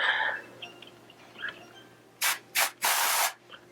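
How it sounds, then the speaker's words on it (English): Three quick hissing bursts of an aerosol body spray, close up, the last one longer, following some faint quiet handling. "Let's spray it."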